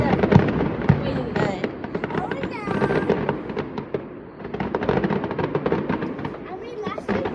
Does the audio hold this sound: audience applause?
no